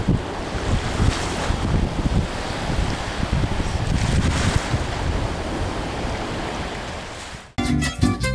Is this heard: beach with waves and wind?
yes